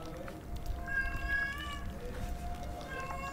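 A cat meows a few times in the horror video game Amnesia Rebirth, short rising wails over a low rumbling backdrop and a faint voice underneath.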